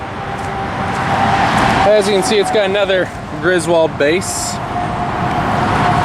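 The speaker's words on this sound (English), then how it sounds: "Apologies for the interstate noise." Constant interstate highway traffic from I-55 close below roars as a broad, steady wash of road noise, heard under someone talking nearby at an abandoned railroad crossing.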